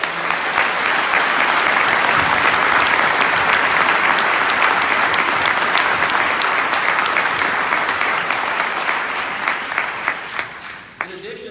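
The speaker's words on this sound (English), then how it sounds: "Let's give all of those important people a big round of applause" A commencement crowd gives a long, sustained round of applause, dense and loud for about ten seconds before tapering off at the end.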